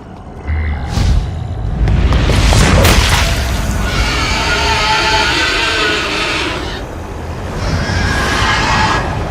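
A loud booming explosion in the Tekken video game rumbles and crashes, followed by a long roaring, debris-filled wash of sound with layered high-pitched effects.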